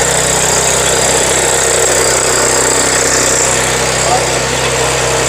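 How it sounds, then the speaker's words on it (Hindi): A small rotavator tiller's engine runs loud and continuous at a farmers' fair in Ludhiana, a steady close drone with a constant hum. "ये जमीन को इस प्रकार से खोदता जाएगा जैसे कि ये बड़ा रोटावेटर करता है"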